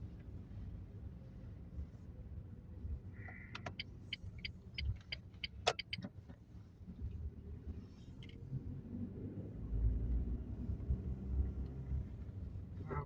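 A car driving along a snowy road, heard from inside as a steady low rumble and road noise, with a brief run of clicking ticks partway through and no voices.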